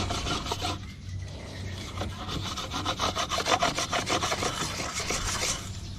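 Wood being rubbed smooth with a flat disc in place of sandpaper while making feed trays, giving a close, steady rasping scrape in fast repeated strokes that grow stronger midway, with no talking.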